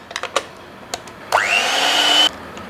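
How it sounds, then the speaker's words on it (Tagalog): Hand electric mixer whipping chilled cream, starting after a few light knocks with a rising whine that settles into a steady, high motor hum for about a second before it stops. "Dito ay gagamit tayo ng hand electric mixer."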